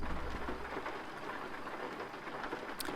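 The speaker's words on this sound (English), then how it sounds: "we're just going to drive through this rain here." Steady rain pattering in Euro Truck Simulator 2 while a truck drives through Greece at night, a dense even hiss of drops holding at moderate level throughout.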